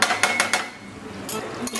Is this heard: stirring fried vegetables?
yes